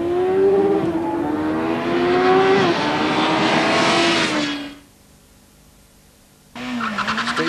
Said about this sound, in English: Sykes then making sure that he gets the Honda's tyres to good working temperature for his first run on the Honda up the quarter mile.